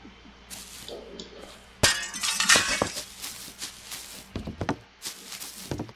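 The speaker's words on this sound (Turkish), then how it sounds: "Aa tablette bu camlar kırılmıyordu," Glass windows shattering in the Hello Neighbor video game, a sudden loud crash with scattered clinking shards, followed by more thuds and knocks.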